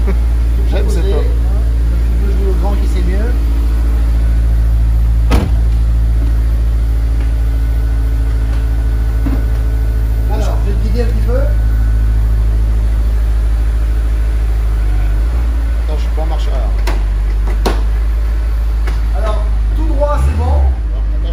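A low, steady engine drone comes from inside a Honda S2000 driving in Miami. Voices talk over it throughout while the hum holds even, with a few small shifts in pitch.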